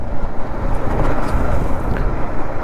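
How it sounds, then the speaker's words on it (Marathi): Heavy traffic on a main road in a rural Maharashtra setting makes a dense, continuous rumble of passing vehicles, with a brief faint horn-like tone rising above the steady roar. "शब्द नाही आहेत एवढं ट्रॅफिक होतं."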